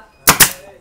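A pin nailer fires into ship furniture with two sharp, close snaps in quick succession.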